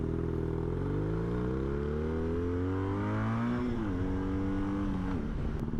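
A Porsche sports car revs and passes close by, its engine note climbing steadily and then dipping as it goes past, loud and continuous with no talking.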